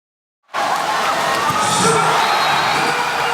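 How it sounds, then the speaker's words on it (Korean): Spectators erupt into loud, sustained cheering and shouting at a women's water polo match against Russia, the roar starting abruptly after brief silence and holding at full volume. "관중들은 선수들의 용감한 도전에 환호했습니다"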